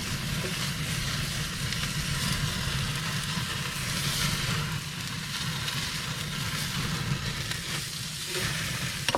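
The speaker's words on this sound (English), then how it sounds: "we're gonna get some sear on the side, render that fat a little bit" A New York strip steak sears on a Big Green Egg ceramic grill, giving a loud, even, continuous sizzle that holds steady and close for the whole stretch.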